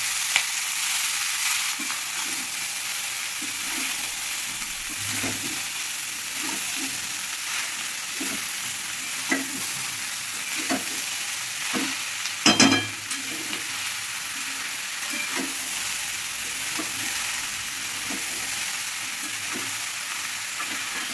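Ash gourd stir-frying with a hilsa fish head in a hot pan: a steady bright sizzle runs throughout, broken by regular scraping stirs and one sharp clatter near the middle, with no talking.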